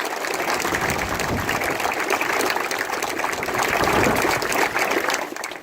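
A crowd applauding for a community in Achill during a ministerial speech, loud continuous clapping that fades near the end.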